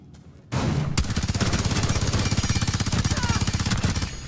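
Rapid automatic P90 fire in a first-person shooter video game, a loud steady stream of shots running for several seconds without a break.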